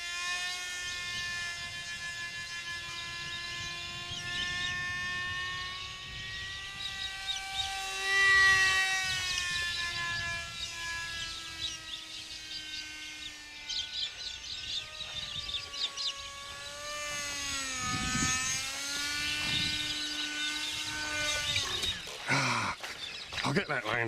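A small E-flite UMX Hyper Taxi RC model airplane flying outdoors, its electric motor whining in a high buzzing drone that rises and falls in pitch as it maneuvers, with a person talking over it.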